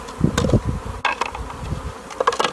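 Honeybees buzz loudly and close as they return to the hive, a busy droning swarm with wingbeat tones rising and falling as they fly past.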